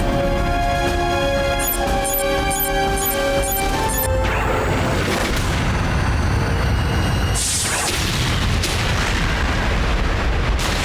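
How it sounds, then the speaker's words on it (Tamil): Loud cartoon booms and crashing rumbles of a volcano eruption in the Motu Patlu cartoon, starting after a beeping, tonal musical lead-in and continuing as dense, noisy blasts. "அங்க பாருங்க, வால்கேனோ வெடிச்சிடுச்சு."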